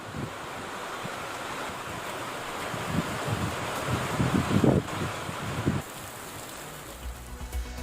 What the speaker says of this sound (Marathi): शहापूर तालुक्यातही सोसाट्याच्या वाऱ्यासह जोरदार पाऊस कोसळला.